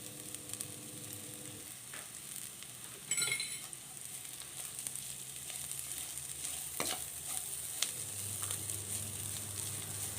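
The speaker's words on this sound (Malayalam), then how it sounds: "സവാള നന്നായിട്ട് മൂത്ത് വരണം, അതുവരെ ഇളക്കി കൊടുക്കാം" Onions sizzle quietly in a pan while a spatula stirs them, producing a steady soft frying crackle with occasional scrapes and knocks, all fairly faint and close, no voices.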